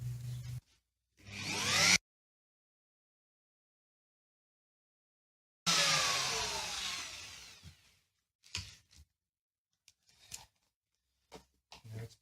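A router cuts pickup cavities in a Telecaster guitar body, whining in two loud bursts broken by long silences, then a few faint clicks and knocks.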